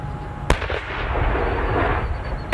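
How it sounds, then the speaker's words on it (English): A bomb squad detonates a grenade on a lake shore: one sharp blast cracks out, then a low rumbling roar rolls on and lingers, heard from a distance with no voices. "the bomb squad blew up that second grenade"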